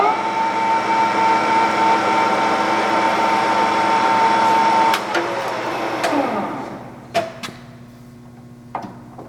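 A Takisawa 14x32 lathe runs at 1200 RPM with a steady mechanical hum and a high whine. It spins down partway through, the sound sagging in pitch, and ends in quieter clunks and clicks.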